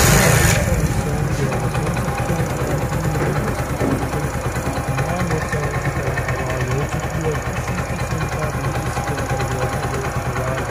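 A Predator motorcycle engine, freshly fitted in a repair workshop, is kick-started and left running: a steady, loud idle with a rapid low thumping that continues for about ten seconds, with some broad background noise.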